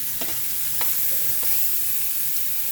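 A homemade Steakum slice fries in oil in a pan on the stove, giving a dense, close sizzle with a few quick scraping taps from stirring, and no voices.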